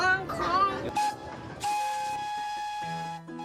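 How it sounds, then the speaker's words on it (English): A train whistle blows on a scenic railway, sounding as long, steady, held tones that follow a brief, wavering opening and then sustain at fairly loud volume to the end. "There goes that whistle."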